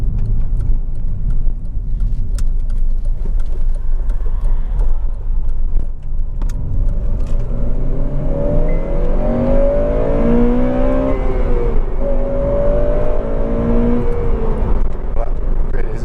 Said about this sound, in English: Sensational engine, it really is. It just sounds so sweet.